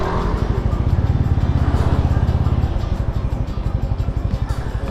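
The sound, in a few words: motorcycle being ridden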